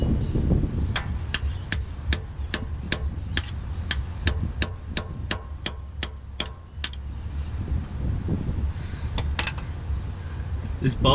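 Sharp metallic hammer blows drive a bolt into place during a manual conversion on an R31 car, about fifteen evenly spaced strikes in a quick rhythm, loud and close, followed by a few scattered taps and shuffling.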